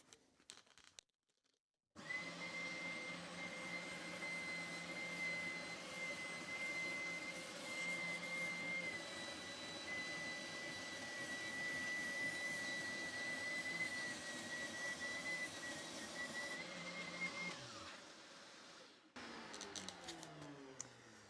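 A Triton 450W oscillating spindle sander runs with its attached vacuum switched on together, sanding a piece of wood: a loud, steady roaring whine with a high tone that holds for about fifteen seconds, then winds down.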